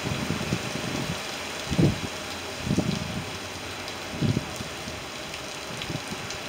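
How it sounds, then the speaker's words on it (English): Hurricane wind roars steadily with rain, a constant broadband wash punctuated by several louder gusts or bursts, no voices. "It is just wind and rain"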